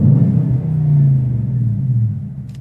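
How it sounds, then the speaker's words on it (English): A Dodge car's exhaust heard from inside the cabin: a deep, loud, steady rumble that swells slightly and then settles, with a brief click near the end and no talk. "I'm just gonna do a little exhaust note for y'all."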